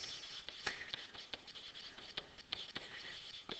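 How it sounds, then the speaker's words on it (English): A pen scratches steadily on paper as a math limit is written out by hand, close and quiet, with short stroke bursts and taps in an irregular rhythm and no talk. "So I'm going to write that in words."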